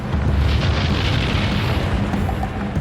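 Krakatoa's volcanic eruption blast rendered as a continuous, heavy rumbling roar with deep low-end boom, loud and unbroken for a few seconds without distinct separate bangs.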